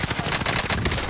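Dense, rapid gunfire from Call of Duty Warzone, automatic weapons rattling continuously and loudly with overlapping shots over a busy battle din.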